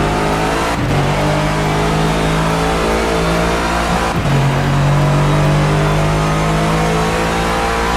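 A race car in the CMRSC Race of Champions at the Australian Grand Prix accelerates out of a right-hander, its engine loud and close, with two gearshift dips followed by rising revs.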